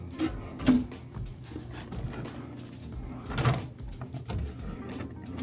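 Drawers in a Las Vegas Four Seasons hotel suite are pulled open and pushed shut, giving a couple of dull wooden thumps and slides over quiet room tone, with no voices.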